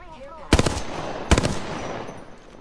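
Two quick bursts of rapid automatic gunfire in the video game Apex Legends, loud and close, about a second apart, with faint background game sound and a brief tonal voice-like sound before the first burst.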